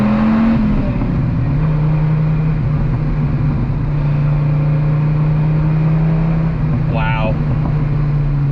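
A 2006 Dodge Viper SRT10 engine drones loud and steady under throttle from inside the car, a low sustained tone with a brief rise near the end.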